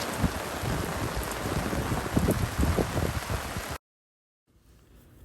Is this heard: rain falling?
yes